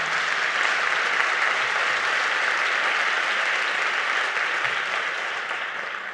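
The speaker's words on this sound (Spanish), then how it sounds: "Un aplauso, hombre, un aplauso," A conference audience at a plenary session breaks into sustained applause, a dense, even wash of many hands clapping that holds steady before tapering off slightly at the end.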